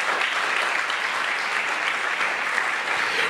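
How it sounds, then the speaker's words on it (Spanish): A church congregation applauds during a Sunday worship service, a dense, steady wash of clapping filling the room for a few seconds without pause. "¿Cuánto le da un aplauso, Señor, por eso?"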